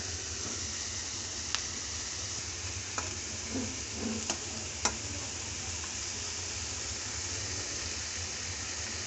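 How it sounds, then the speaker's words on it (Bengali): Tomato masala being stirred and sautéed in a pan for chickpea curry, a steady low sizzle with a few scattered scraping knocks of the spoon, fairly quiet and with no voices. "আমরা টমেটো মশলাতে দিয়ে ভালো করে কষাই নিচ্ছি"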